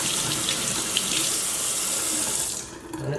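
A kitchen faucet pours cold water over raw chicken pieces in the sink, a loud, near, steady rushing splash that cuts off near the end, leaving a faint drip and quiet.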